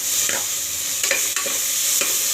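Tomatoes frying in a pan with curry leaves for a mutton gravy, a continuous close sizzle with three evenly spaced stirring scrapes.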